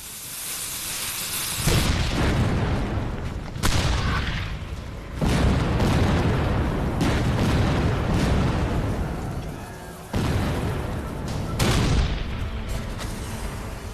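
Deep, booming blasts of Civil War artillery: a 12-pound cannon fires a solid iron cannonball with a charge of gunpowder. Several loud, heavy reports follow one another closely, each rolling on.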